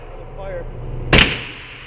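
A single loud, sharp AR rifle gunshot at an outdoor shooting range, coming after a moment of quiet background noise and trailing off in a brief echo.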